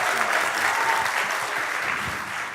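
A studio audience at a talk show applauds a guest, giving dense, sustained clapping that is close and fairly loud. It eases off slightly toward the end, with no speech over it.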